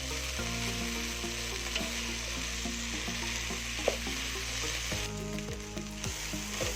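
Soya chunks fry in a hot pan, a steady loud sizzle broken by repeated scraping stirs of a spoon against the pan, going on without pause and with no voices.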